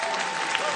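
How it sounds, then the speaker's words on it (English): A stand-up comedy audience claps steadily in a dense, even burst of applause that fills the whole short moment. "Thank you for clapping"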